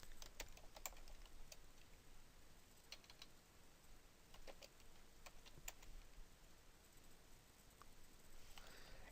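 Light typing on a computer keyboard while entering a search term, soft scattered key clicks over a faint steady background hiss, quiet and close.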